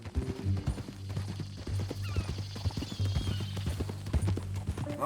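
Horse hooves clatter in Red Dead Redemption 2, a brisk, continuous clip-clop of close, moderately loud hoofbeats with no talk over them.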